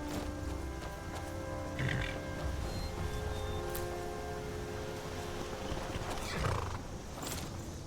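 A horse in the video game Skyrim gives a whinny and plods with clip-clop hooves. The sounds play over a steady ambient game soundscape, moderately loud and without talk.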